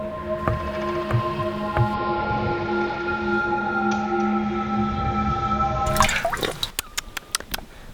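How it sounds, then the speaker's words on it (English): Water scooped by hand from a stream in Swedish wilderness, ending in a burst of splashing and dripping, with sustained tonal hum in the background before the scoop. "I scoop in and I drink the water with my left hand"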